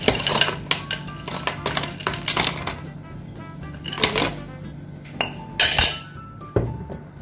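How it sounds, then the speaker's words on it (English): Crushed ice clinks and rattles into a glass blender cup for a melon banana smoothie, a run of sharp close clinks and knocks with short pauses between bursts. "I'm gonna add some crushed ice."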